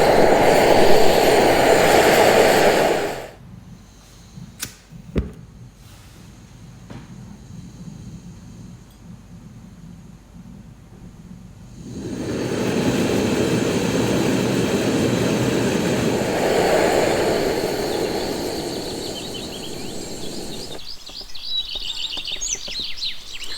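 A loud, steady roar of a Trangia 25 Storm Cooker gas burner at maximum runs for a few seconds, cuts to near quiet with faint clicks, then roars again at full blast.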